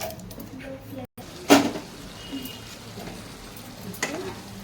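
Chicken gongura cooking in a pan over a low flame makes a soft, steady sizzle, with a sharp clank of a utensil against the pan and a lighter tap later.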